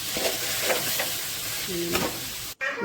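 Banana stem and horse gram stir-fry is stirred in a pan, a constant close sizzle broken by a few spatula scrapes and a brief clatter, ending with a sudden drop.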